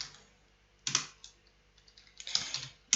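Fingers typing a command on a computer keyboard, two quick bursts of close, crisp key clicks separated by a short pause.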